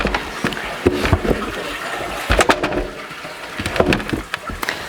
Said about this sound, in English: the water comes out from the base of the mountain and then comes down the little creek into the well box here